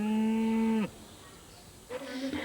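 Cattle on a farm in a rural village: a loud, close, drawn-out moo, then a quiet pause and a second, shorter moo starting up near the end.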